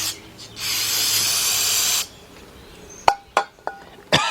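WD-40 gel lubricant sprays from a can in one steady hiss lasting about a second and a half, followed by several sharp metallic clinks and taps during work on a 1977 Buick LeSabre 350 engine.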